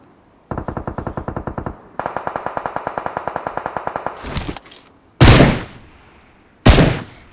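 Gunfire in PUBG on the Livik map: two long rapid automatic bursts with an evenly spaced rhythm, then a few loud single heavy shots echoing apart, loud and close with no talking.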